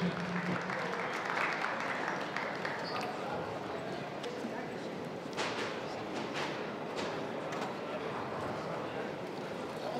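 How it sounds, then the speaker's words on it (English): Applause from a crowd at a youth boxing championship after a bout winner is announced by split decision, a steady broad wash of clapping lasting throughout under busy hall noise. "A round of applause from Ingrid Johnson."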